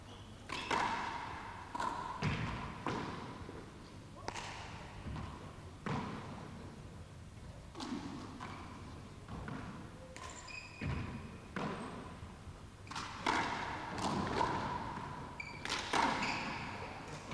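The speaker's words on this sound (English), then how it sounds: "Duxie Walsh tried to bang it off the back wall to reach the front wall" A handball strikes the back and front walls during a 1988 Dublin handball final between Duxie Walsh and John Bike, giving sharp thuds and slaps in an irregular rally rhythm with faint court echo.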